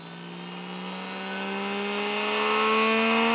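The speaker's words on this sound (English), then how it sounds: "And you can see the motor is accelerating." A BLDC motor with delta winding, running sensorless with no load, spins up toward 16,000 RPM: a steady electric whine that climbs smoothly in pitch and grows gradually louder, heard alone.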